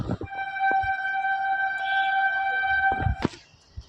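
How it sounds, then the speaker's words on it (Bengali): A passing train sounds one long, steady, loud horn blast lasting about two seconds, with brief clunks and rumbling around it. "তো চলো ট্রেন যাচ্ছে তাই তো সেটাও তোমাদের সঙ্গে একটু শেয়ার করি"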